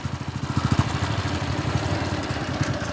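A high-rise stunt motorcycle's engine runs steadily with a rapid, chugging pulse and some clatter as a rider moves along, loud and close without talk.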